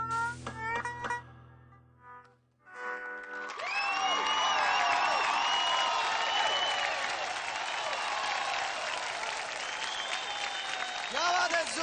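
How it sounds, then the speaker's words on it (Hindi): After a sung romantic Hindi phrase fades, the audience of a televised dance competition bursts into loud, sustained applause with cheers and whoops, a thick crowd roar lasting several seconds. "जोरदार तालियां हो जाए जय और जानवी के लिए"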